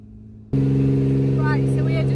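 Truck carrying a water tank and pump climbing a hill, its engine starting up abruptly and then droning loud and steady with a strong low hum, up close.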